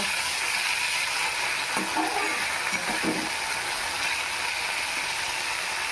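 Small fish frying in a pan, producing a steady close hiss of sizzling oil throughout, with a few faint knocks in the middle.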